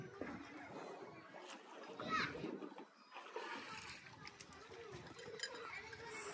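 Water splashes repeatedly as buffalo are bathed on an Indian farm, a busy, uneven wash of splatter close by, with voices and outdoor background noise mixed in.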